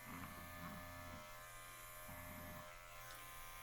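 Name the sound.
electric clippers trimming lamb's wool padding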